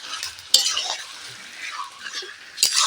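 A spatula scraping and stirring chicken with ginger paste in a hot pan, soft sizzling with a couple of sharp metallic knocks against the pan, close and moderately quiet.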